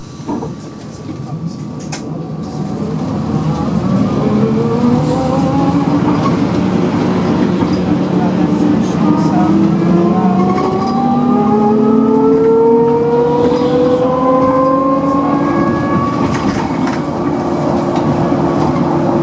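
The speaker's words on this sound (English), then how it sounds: "a trolley bus that turns into diesel electric. But they sound really nice. Just take a listen to this." A trolleybus running on its diesel-electric engine whines upward in rising electric-drive tones as it accelerates, over a loud steady engine rumble, close by.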